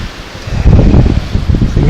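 Wind gusts through young pine trees at a lakeside campsite, a broad rushing noise that swells after the first half second and stays loud and close with rustling needles.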